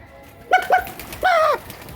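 Close, clear pigeon coos: two short calls followed by a longer, drawn-out coo, with quiet background between them.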